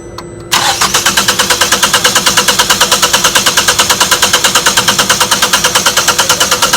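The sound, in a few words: car engine cranking but not starting, cam and crank sensors disconnected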